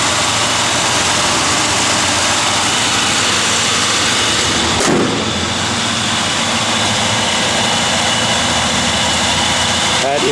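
A 1965 Pontiac Grand Prix V8 idling, a loud, steady, close-up rumble that runs unbroken, with a brief knock near the middle.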